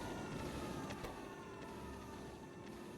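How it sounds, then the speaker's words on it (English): Alarm sirens sound in the factory-building game Factorio during a megabase session, a faint, low wailing tone over steady background hum with a few soft clicks. "Soft, gentle sirens in your living room."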